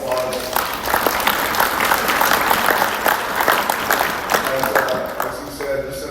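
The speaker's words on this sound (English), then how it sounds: "Big round of applause." Sustained audience applause at a morning seminar, a steady wash of many hands clapping at even loudness for about six seconds, with a few voices audible underneath.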